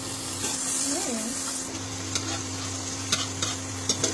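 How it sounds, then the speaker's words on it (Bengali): Cherry tomatoes sautéing in butter in a pan, giving a steady soft sizzle with a few light stirring clinks and scrapes near the end, and a low hum running underneath. "জাস্ট বাটারটাকে মেরে ফেলতে দেবো, যাতে টমেটোগুলো একটু সটে করা যায়।"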